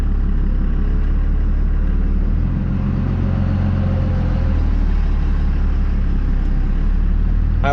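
A Cummins 24V diesel truck pulls off in second gear, its deep steady engine rumble loud and close throughout, droning evenly with no talk.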